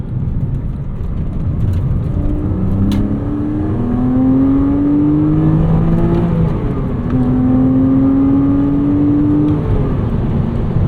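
Flat-six engine of a 2009 Porsche Cayman S (987.2) revving hard toward 7250 RPM from the driver's seat, rising harmonic tones climbing in repeated pulls with a steady loud drone and no talking.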